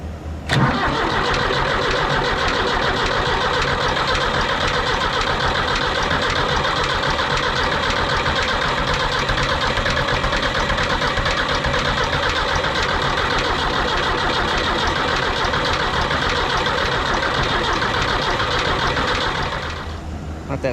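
A Ford 5000 tractor engine cranks on its starter without catching, a loud, continuous, rhythmic churning that lasts about twenty seconds, close up, then stops.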